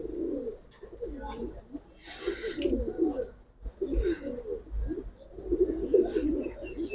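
Giribaz pigeons coo in repeated low, throaty bursts close by, with faint background noise between calls and a voice speaking softly underneath.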